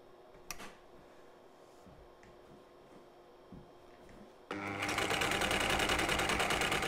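A Singer 319 sewing machine starts up after a quiet pause and runs steadily, stitching decorative stitches with a rapid, even mechanical chatter that stays loud to the end.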